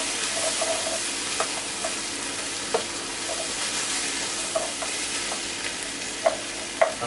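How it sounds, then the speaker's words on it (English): About 200 grams of red lentils go into a pot and are stirred, giving soft scraping and light clicks of a spoon against the pot over a steady sizzling hiss. "I'm going to pop in the lentils. About 200 grams of lentils"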